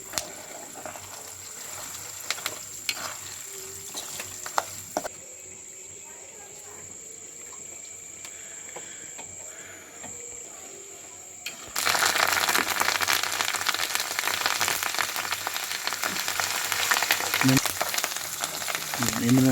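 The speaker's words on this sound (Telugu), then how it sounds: "తాలింపు రెడీ చేస్తుంది చూడండి. ఆయిల్ వేసిందండి." Tempering spices fry in oil with chana dal and salt: a quiet simmer at first, then a loud, dense hiss of sizzling oil takes over partway through and stays high, with someone talking over it.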